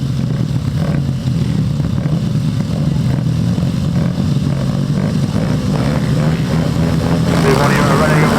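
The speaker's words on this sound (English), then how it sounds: "engines begin to pick up the revs." Several sidecar racing engines at a grasstrack race drone and rev together in a loud, continuous roar, the pitch climbing as they pick up speed at the start, with faint talk underneath.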